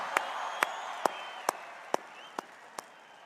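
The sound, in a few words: crowd applauding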